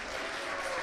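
A church congregation claps in a brief, dense burst of steady applause, loud and filling the room.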